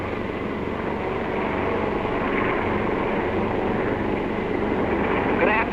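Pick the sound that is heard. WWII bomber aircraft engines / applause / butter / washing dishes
WWII bomber aircraft engines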